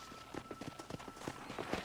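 Horse hooves clip-clopping in Red Dead Redemption on Xbox 360, a quick even run of soft hoof beats over a steady low ambient bed, fairly close.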